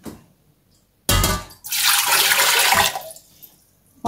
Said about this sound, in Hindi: अब मैं पानी डालूँगी शीरा बनाने के लिए।